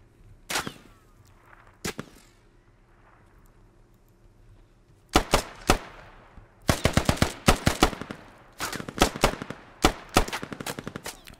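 Gunfire in the video game Squad Ops during a bridge battle at a river crossing: two isolated shots, then dense bursts of sharp, loud rapid fire in quick volleys, with no talking.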